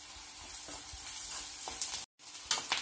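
Steady frying sizzle in a pan while tempering for fish gravy, with occasional stirring scrapes and crackles, a brief dropout near the end, no talking.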